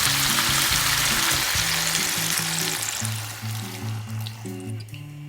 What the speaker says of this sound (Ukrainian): І тепер вливаю воду.